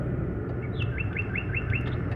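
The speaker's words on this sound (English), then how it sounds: "The sound of adorable little birds in your garden." Small garden birds give a quick run of about five bright, rising chirps over a steady low background rumble, clear and fairly close, with no talking.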